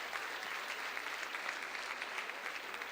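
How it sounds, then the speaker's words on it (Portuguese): A church congregation applauds steadily during a sermon, a dense continuous wash of many hands clapping at even loudness for a few seconds with no speech over it. "Pode aplaudir a Jesus pela vida dela."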